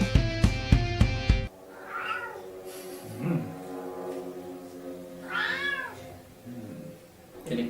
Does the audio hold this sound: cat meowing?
yes